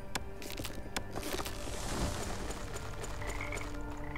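A toad in Niffelheim gives rapid, rattling croaks in a quick regular series, close and fairly loud, over a continuous game ambience with no talking.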